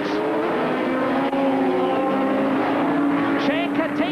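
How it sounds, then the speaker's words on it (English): Rallycross cars, including a Ford Escort, Audi Quattro and Porsche, race at Lydden Hill in a 1985 European Rallycross final, their engines roaring steadily with shifting tones as they pass, under a commentator talking. "Schanke takes him as they go into the right-hander at Chesson's Drift"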